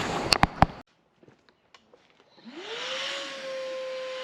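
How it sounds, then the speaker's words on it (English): A vacuum cleaner used to pick up light debris from car carpet starts up after a few brief knocks and a quiet pause, rising into a steady motor whine with an airy hiss. "just going to vacuum up the light debris real quick"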